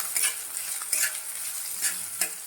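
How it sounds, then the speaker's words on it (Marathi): Onion frying in a pan gives off a steady sizzle, with soft scraping and stirring strokes coming about once a second. The sound is close and moderate in level, with no voices. "कांदा चांगला आपण भाजून घेऊया"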